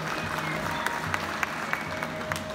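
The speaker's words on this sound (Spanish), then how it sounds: "Fuerte los aplausos" Audience applause at a secondary school graduation ceremony, a steady wash of many hands clapping over hall ambience, with a few sharper claps standing out.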